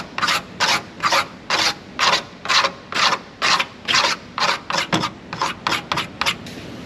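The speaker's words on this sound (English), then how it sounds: "You have to sand it down a little bit" Sanding a plastic seat part by hand during a vehicle restoration, a steady rhythm of about eighteen rasping back-and-forth strokes, close and even, with no voices.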